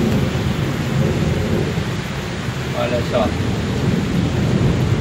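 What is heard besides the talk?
heavy rain and thunder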